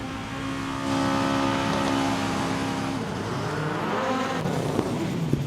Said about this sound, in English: so you can hear the rumble of Kristoffersson